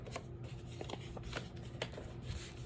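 Paper file folder being folded down by hand for a craft folio, with soft crinkling and a few crisp rustles and creases over steady low room noise, close and fairly quiet.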